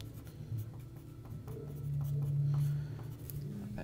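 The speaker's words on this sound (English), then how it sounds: "So we'll write that little equation right here." An equation being written out by hand for a math problem, heard as soft, close scratching strokes of the writing tool under a low background hum, with no one talking.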